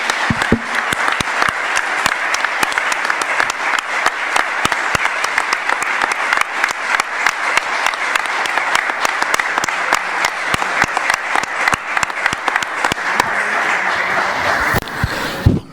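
A lecture-hall audience gives sustained, dense applause after a conference talk, steady and loud for about fifteen seconds with no break.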